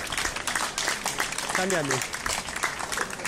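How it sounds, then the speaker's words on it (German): An audience applauds at an outdoor culture festival against the far right, a dense, continuous wash of clapping that carries on under a nearby voice speaking briefly. "Applaus!"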